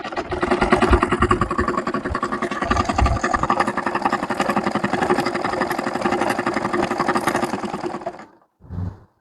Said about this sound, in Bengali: এখন আমি এটা সেলাই করি।